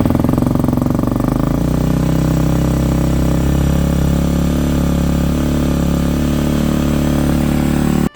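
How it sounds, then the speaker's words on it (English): Honda CRF250R motorcycle fitted with a Yoshimura titanium exhaust, cold-started and running at a loud, steady idle close by, with a dense rumbling drone that holds for about eight seconds before cutting off abruptly. "We're going to do a cold start and some rips down the speedway right there."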